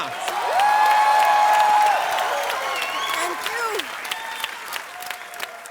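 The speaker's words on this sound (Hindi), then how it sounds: "जोरदार तालियां।" Loud, sustained applause from a studio audience at a comedy talk show, a dense wash of clapping with some cheering that peaks early and then tapers slightly while continuing throughout.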